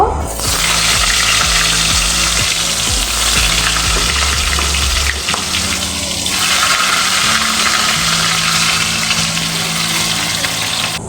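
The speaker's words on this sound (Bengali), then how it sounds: "নুন হলুদ দিয়ে মাখিয়ে রাখা আলুগুলো আমি ভেজে নেব" Potatoes coated in salt and turmeric frying in oil give a loud, steady sizzle that runs throughout, with a brief shift in texture midway as they are moved about.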